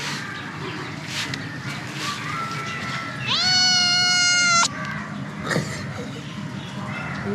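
Cat at a resort, one loud drawn-out meow in the middle, near, with quieter background talk and noises before and after.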